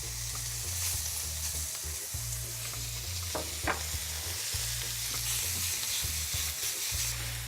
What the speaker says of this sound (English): So first the bacon into the pan.